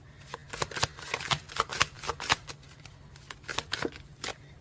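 Tarot cards being shuffled by hand, a run of crisp riffling bursts in quick irregular rhythm, close and clear with no voice over it.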